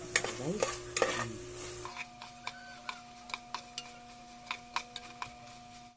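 Bitter gourd (ampalaya) sizzles steadily in a hot pan while a utensil scrapes and stirs it, the first stirring dense and busy, then giving way to regular sharp ticks of the spatula against the pan over continuous frying hiss.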